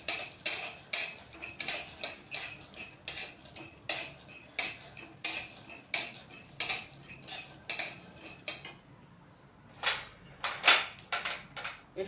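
Nuts and a tablespoon of cumin seeds are stirred in a dry pan. Rapid, rhythmic metallic clinks and scrapes go on for several seconds, stop for a short pause, then come back in a few sharper bursts.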